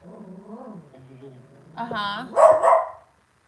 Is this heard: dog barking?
yes